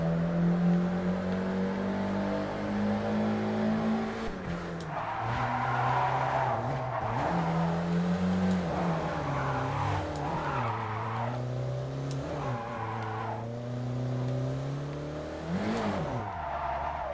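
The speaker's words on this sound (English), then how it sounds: "Nice drifting." Car drifting in the video game Japanese Drift Master, with repeated tire skids and squeals over revving engine pitch that rises and falls through the slides, loud and continuous for the whole stretch.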